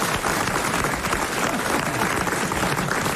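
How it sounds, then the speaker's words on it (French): Dense, steady applause from a studio audience on a French television show, loud and continuous throughout with no clear voices on top. "Il s'applaudit."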